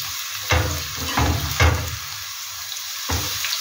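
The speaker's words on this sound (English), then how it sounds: "ensure you are cooking the onions under medium heat." Onions and green pepper frying in a pan over medium heat, a steady loud sizzle with a few scraping stirs swelling and fading, no voices.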